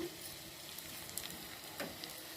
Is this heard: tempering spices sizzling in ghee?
yes